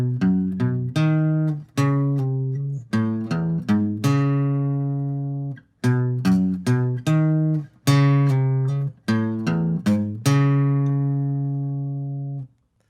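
Guitar plays a riff, a repeating pattern of plucked low-string notes with ringing harmonics, played alone in short phrases that pause and restart, clear and close.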